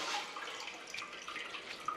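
Water poured and splashed for wudu ablution, a soft continuous trickle and splash running throughout, fairly quiet and without speech.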